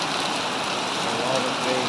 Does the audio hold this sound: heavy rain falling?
yes